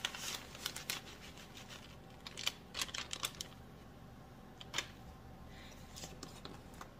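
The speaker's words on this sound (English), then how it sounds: "I'm going to put in this whole container. It's a 6-ounce bag of finely shredded Parmesan cheese." A whole 6-ounce bag of finely shredded Parmesan cheese poured into an Alfredo sauce, soft close rustling of the bag with bursts of light crinkling and pattering, quiet throughout.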